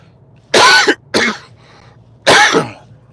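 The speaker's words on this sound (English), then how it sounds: "I'm gonna cough." Three harsh coughs, two close together and then a third after a short pause, loud and close with a low hum underneath.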